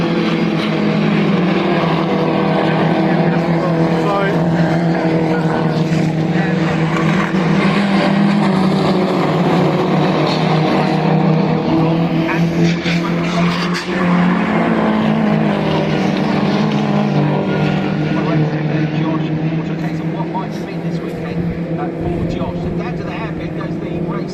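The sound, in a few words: MINI Challenge race cars racing at Oulton Park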